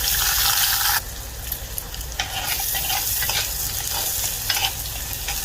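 Chopped shallots, ginger, garlic and dried chillies sizzle in a hot pan for buttermilk curry, with a loud frying hiss and scraping stirring strokes throughout.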